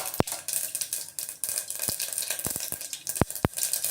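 Mustard seeds pop in hot cooking oil for a Tamil arai keerai kadaiyal, sharp irregular crackles and snaps over a faint sizzle, close and fairly loud, with no voices.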